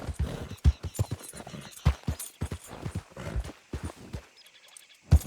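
A horse walks in Red Dead Redemption 2, its hooves clip-clopping in a loose, uneven rhythm of close, distinct thuds, with a short pause near the end.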